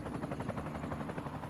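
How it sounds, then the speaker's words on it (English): Helicopter rotor blades thump steadily and loudly, a continuous rhythmic chopping close by with no pauses. "The small helicopter can barely lift her"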